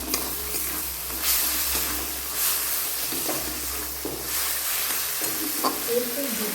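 Kashmiri chilli and spices sizzling in hot oil in a pan, a steady crackling fry broken by a few scraping stirs, close and fairly loud, with no talk.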